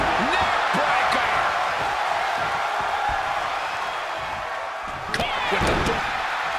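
A wrestling neckbreaker in WWE 2K23, Shawn Michaels against Yokozuna in a 1996 Raw match, lands with a sharp slam thud near the start and another heavy impact later, over a steady arena crowd roar and ringside commentary.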